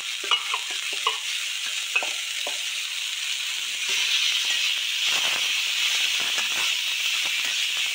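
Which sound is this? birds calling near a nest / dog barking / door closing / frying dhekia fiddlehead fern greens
frying dhekia fiddlehead fern greens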